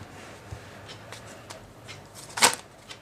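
Tarot cards being shuffled and handled in a quiet room, soft intermittent riffling with a sharper burst of card snaps near the end, faint and close.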